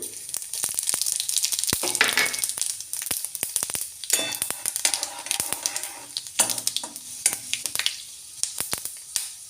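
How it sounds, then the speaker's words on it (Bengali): Panch phoron spices hit hot mustard oil in a karahi, crackling and sizzling loudly with sharp pops and spits over a hissing bed, alone without talk. "কড়াই সর্ষের তেল দিয়ে দেবো এবার সর্ষের তেল গরম হয়ে গেলে এর মধ্যে দিয়ে দেব পাঁচ ফোড়ন"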